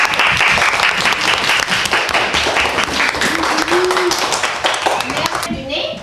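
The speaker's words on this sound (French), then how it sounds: "On applaudit et on remercie." An audience at a family gathering breaks into loud, continuous applause, many hands clapping close by, with voices talking over it and the clapping thinning out at the end.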